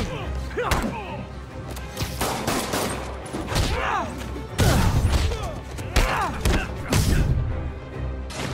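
In Spider-Man on PS4, street thugs fire guns amid a chaotic fight, with repeated sharp shots and thuds scattered throughout, close and loud, mixed with brief shouts and impact sounds.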